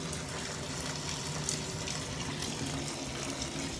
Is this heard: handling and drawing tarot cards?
no